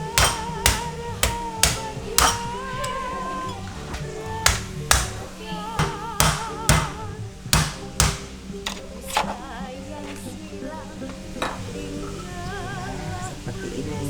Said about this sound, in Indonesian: Jadi ini harus dipalu dulu.